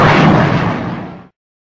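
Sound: hand grenade explosion

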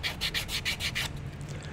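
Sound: sanding a 3D print to remove greasy surface

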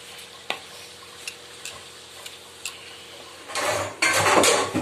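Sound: fenugreek leaves and potatoes frying in a pan

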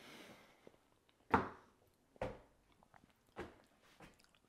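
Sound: chewing while tasting squash risotto with burrata

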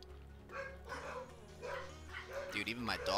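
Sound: dogs barking

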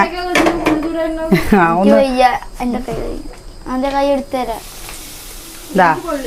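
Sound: papadam frying in oil

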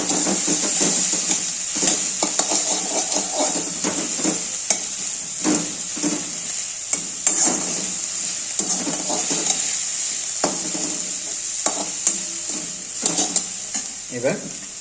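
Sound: food being stir-fried in a pan

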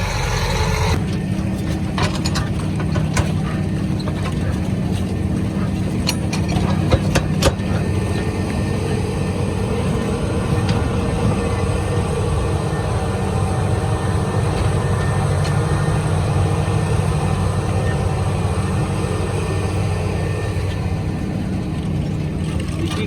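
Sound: tractor running with cultivator machinery

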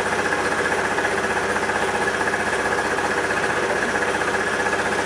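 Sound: scooter engine idling at normal speed after restart

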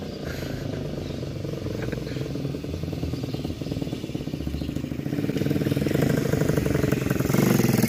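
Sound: mini motorcycle engine idling

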